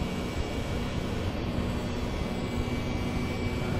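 Twin Rolls-Royce jet engines of a Boeing 717-200 spooling up in Flight Simulator X, a steady, dense broadband roar with a constant low hum that holds loud and even throughout.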